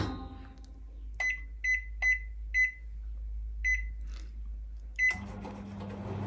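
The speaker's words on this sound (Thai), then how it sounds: "เดี๋ยวรอไปใส่ไมโครเวฟค่ะ ทุกคนคะเราจะใส่เข้าไปเลยอย่างนี้นะคะ5นาทีค่ะ" A microwave oven cooking corn on the cob: a low hum, then a series of bright keypad beeps before the oven starts up with a louder, steady drone.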